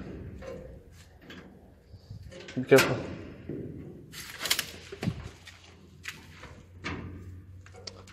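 A locked door in an abandoned structure is rattled and tugged, giving scattered knocks and clattering bangs of varying loudness, one sharp jolt standing out, while people talk nearby.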